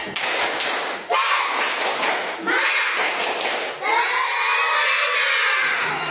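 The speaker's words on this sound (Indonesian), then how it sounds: "Oke, tepuk semangat" A classroom of children performs a rhythmic spirit clap, loud and close, with repeated hand-clapping patterns mixed with children's shouting and chanting voices throughout.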